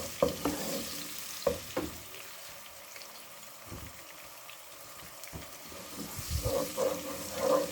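Ground green chilli paste fries in a pan as a home dish of turnip and meat is cooked, giving a soft, steady sizzle with a few stirring scrapes and clinks near the start and again toward the end.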